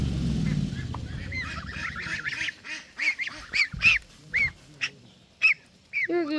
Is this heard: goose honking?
yes